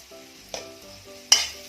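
Cumin and turmeric powder being stirred in a frying pan for an Assamese singi fish curry: two short scraping strokes over a low, quiet sizzle, with faint steady tones in the background.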